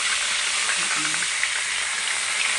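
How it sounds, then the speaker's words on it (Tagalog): Chicken frying in a pan makes a constant, close sizzle with a dense crackling hiss that holds steady throughout, with no voices over it. "Tapos na naprito ni Rico yung manok natin."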